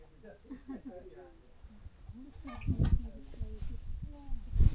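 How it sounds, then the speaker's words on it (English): Free-range chickens cluck in short, scattered bursts outdoors, fairly close at first, while people talk nearby and louder sounds of movement build toward the end. "Yeah, free range chicken."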